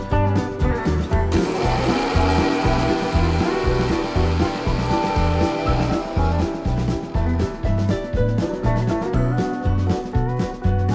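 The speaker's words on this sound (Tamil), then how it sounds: "இப்ப அதை ஒரு மிக்சி ஜார்ல சேர்த்து நல்லா பொடியா எடுத்துக்கலாம்." A kitchen mixer grinder whirs loudly as it grinds roasted fenugreek and mustard seeds for tomato pickle. The motor runs in a steady rhythmic pulsing drone with a gritty rattle from the seeds inside the jar, close and continuous throughout.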